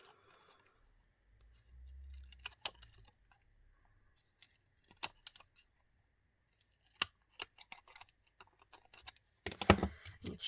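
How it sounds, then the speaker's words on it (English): Scissors snip the corners off a sheet of acetate for a birthday shaker card, giving a few sharp, close cuts separated by quiet pauses. "I need to cut all of the corners off"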